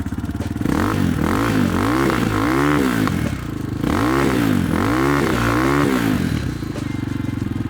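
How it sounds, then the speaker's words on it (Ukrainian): A Forte Falcon 300 scrambler motorcycle engine revs repeatedly in loud, rising and falling surges, close by, with a rough popping exhaust between bursts. "Запускається з півтичка і послухайте вихлоп."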